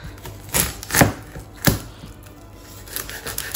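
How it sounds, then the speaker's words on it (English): A knife cutting a hard onion in half on a board, several sharp close thuds, the strongest near the middle, then quieter scraping and light taps. "we've got to slice an onion because we need to put this in our burger"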